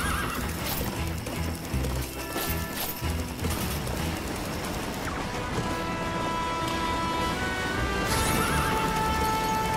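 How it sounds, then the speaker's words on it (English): Horse galloping in the video game Puppeteer, rapid clip-clop hooves with loud neighs over busy game music and crashing effects, dense and continuous throughout. "Kuturo's horse is on the bit as he shrugs off every danger."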